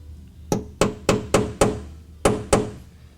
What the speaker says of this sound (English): We're going to go ahead and center punch it and drill it.